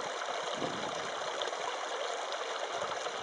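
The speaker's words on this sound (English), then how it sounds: "getting a picture of our little mini cascade of waterfalling" A small waterfall cascade on a desert hiking trail in the Superstition Mountains of Arizona gives off a steady, soft rushing trickle of falling water, continuous and even, heard close without voices.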